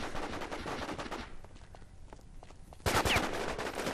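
Gunfire in the War Inc. Battlezone shooter game, a dense run of rapid shots up front, a quieter stretch with scattered reports, then a loud close burst of firing that carries on to the end, with no talk.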